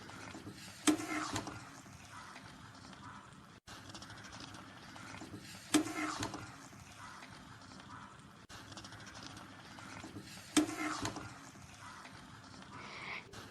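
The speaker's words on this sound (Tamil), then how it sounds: "முட்டைக்கோஸை போட்டோன்னா நம்ம சுற்றி மெதுவாக குழஞ்சிராமல் மெதுவாக கிண்டணும்" Boiled cabbage is stirred slowly around a pan, giving soft, quiet wet scraping and liquid sloshing with three brief louder scrapes at regular intervals.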